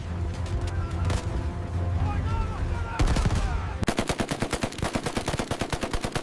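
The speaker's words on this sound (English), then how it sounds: "Machine gun suppressing the forward infantry." Battlefield gunfire from a North Africa desert war scene: heavy booming shots and rumble give way to a rapid, rhythmic burst of machine gun fire suppressing infantry, loud and sustained to the end.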